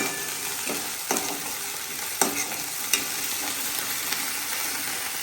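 Garlic sizzles steadily in a hot pan while cooking palak paneer, a continuous dense frying hiss with occasional spoon scrapes as it is stirred.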